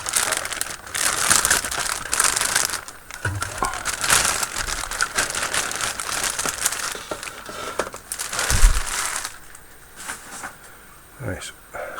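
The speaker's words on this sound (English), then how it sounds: "Everything is going to be in plastic bags now, so let's excuse the rip and the tear" Plastic bags holding the parts of a Hobby Boss 1/16 scale Tiger I tank model kit crinkle and tear in bursts while being opened, close and fairly loud, with a few crisp rips and brief handling thumps.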